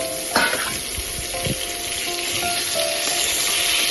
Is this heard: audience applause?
no